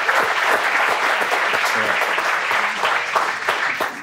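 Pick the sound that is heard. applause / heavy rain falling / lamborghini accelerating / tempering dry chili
applause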